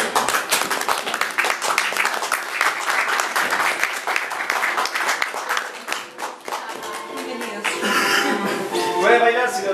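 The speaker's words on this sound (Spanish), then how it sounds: "Pido un fuerte aplauso, por favor." Theatre audience at a stage play applauding: a dense, continuous roar of many hands clapping that fills the space, steady and loud for nearly ten seconds with faint voices mixed in.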